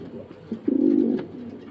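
A fancy pigeon gives a soft, low throaty coo close by at a pigeon farm, a single drawn-out rolling call over quiet background.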